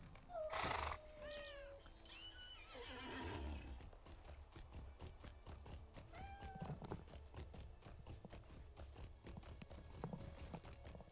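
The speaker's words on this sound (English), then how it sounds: "I love that our cat still makes noise like we're carrying it." A pet cat in the Lord of the Rings Online video game meows several times in high, wavering calls, mixed with steady clip-clopping horse hooves and a neigh.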